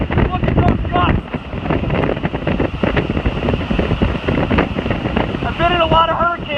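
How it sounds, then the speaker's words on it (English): Hurricane Michael's eyewall winds roar loud and continuous near the microphone at about 130 mph sustained, with heavy gusts battering buildings, while someone talks over the storm. "130 mile an hour sustained winds right now."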